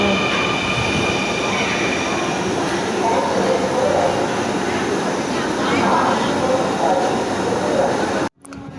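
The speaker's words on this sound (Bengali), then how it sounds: "অবশেষে অপেক্ষিত ট্রেনটি চলে এসেছে এখন আমরা ট্রেন উঠব" A Dhaka Metro Rail train pulls into the station with a loud, continuous rumble, rushing air and faint wheel squeal. The noise holds steady for several seconds before cutting off sharply, with station murmur underneath.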